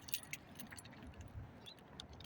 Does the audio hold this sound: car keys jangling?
yes